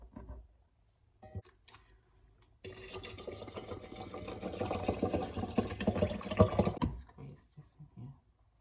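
Tap water running at a kitchen sink while ginger and lemon are rinsed under it, a mid-level rushing stream lasting about four seconds between quiet handling clicks and knocks.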